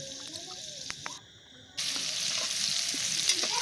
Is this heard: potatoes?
yes